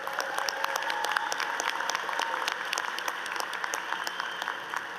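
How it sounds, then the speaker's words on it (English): An audience at a university commencement ceremony applauding, a sustained crowded patter of many hands clapping at once, even and continuous throughout, heard in a large hall. "Let's give her one more round of applause."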